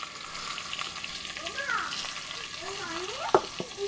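Chopped onions fry in a pan with a constant close crackling sizzle, while a faint voice drifts in the background and a sharp tap lands near the end.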